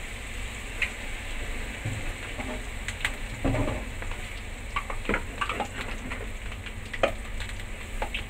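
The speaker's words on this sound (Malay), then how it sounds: "Dan kita goreng lagi ya teman-teman sampai selesai." Peanut crackers (peyek kacang) frying in oil in a wok, a steady close sizzle with scattered crackling pops throughout, no talking.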